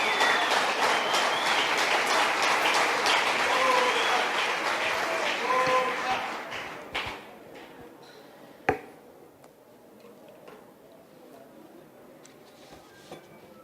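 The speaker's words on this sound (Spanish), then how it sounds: "Un aplauso para él" Church congregation applauding for the pastor's birthday, dense sustained clapping from a crowd for about six seconds before it fades into a quiet room with a single sharp knock.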